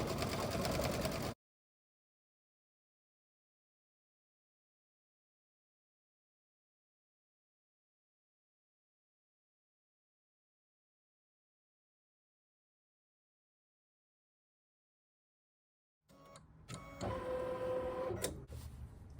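A Kimberbell embroidery machine stitches a fancy decorative fill, heard as a brief mechanical whir at the start and a steadier, closer rhythmic stitching hum near the end, with a long silence between.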